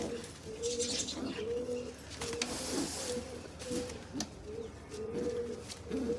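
Pigeons coo in a loft, repeated soft throaty calls in a steady rhythm, fairly close, with light rustling and clicks between them.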